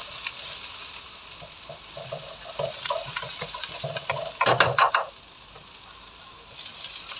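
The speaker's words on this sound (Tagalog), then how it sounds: "Gigisa lang po muna natin ito." Fish with century egg, chili and onion leaves sautéing in a pan gives a steady hiss, with clinks and scrapes of stirring and a brief louder burst of sizzle near the end.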